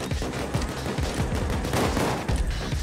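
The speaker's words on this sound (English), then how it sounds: "Shotgun, baby." Rapid, dense shotgun blasts and steady gunfire in the heist game Payday 2, loud and continuous with sharp repeated reports throughout.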